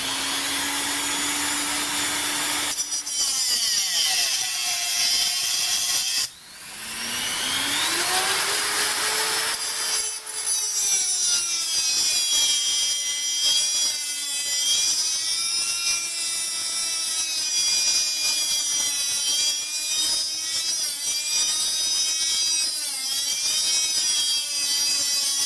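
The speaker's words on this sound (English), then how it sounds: "I could use the hacksaw, but you know, power hacksaw or bandsaw" A bandsaw-type power saw cuts the bolt head off an old Bosch cordless drill's Jacobs chuck, a steady loud machine whine with a shifting tone, a brief dip near the middle, then continuing alone.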